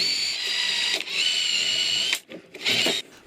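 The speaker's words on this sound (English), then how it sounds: "mark the screw positions and start drilling through the table" Power drill boring screw holes through a bandsaw table, a steady high whine in two bursts separated by a brief pause, close and fairly loud.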